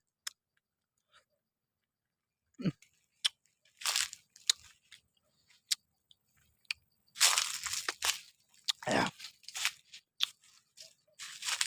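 Someone bites into and chews a mangosteen fruit close to the mic, with sharp crunchy bites and wet chewing bursts scattered over a quiet orchard background, growing busier toward the end.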